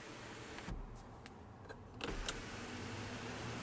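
A power sunroof on a 2021 Hyundai Kona Electric Limited whirs open in a quiet cabin, with a soft motor hum and a few faint clicks over low background noise.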